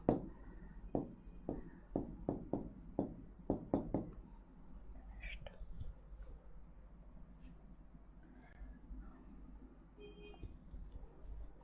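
Chalk or marker writing on a board in a classroom, a quick run of about a dozen sharp tapping strokes in the first few seconds, then quieter scratching and faint room noise.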